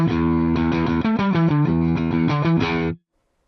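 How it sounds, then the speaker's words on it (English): An electric guitar played with its octave pedal, the Archetype Plini X, bypassed, giving a steady run of clear sustained chords and picked notes for about three seconds before stopping abruptly. "My guitar currently, with the pedal bypassed, sounds like this."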